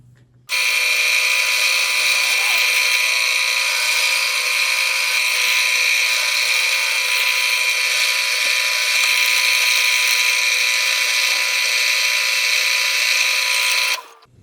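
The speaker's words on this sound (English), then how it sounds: "I'm going to drill out the holes for all of the controllers as well" A pillar drill boring holes in a wooden guitar body whines steadily at high pitch for about thirteen seconds, starting and stopping abruptly, loud and close with no talking.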